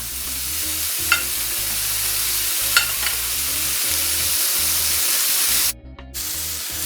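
Onion sizzling on a hot griddle beside smash burgers topped with cheese, a steady loud hiss with a couple of spatula scrapes, close up, cutting off abruptly near the end.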